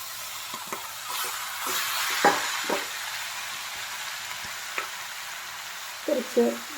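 Prawns go into a pan with green chilli and tomato for a Kerala prawn theeyal curry, giving a soft, steady sizzle with occasional stirring scrapes and a few louder clatters near the end.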